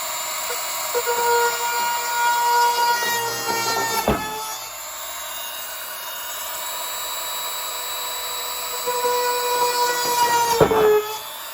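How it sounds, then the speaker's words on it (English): A power drill bores holes into the wooden roof of a dollhouse, a loud whining motor with a rising and falling pitch, two sharp bursts as the bit bites into the wood, running alone without talk. "using that drill that I showed you in the other video to put the holes in the roof of the dollhouse"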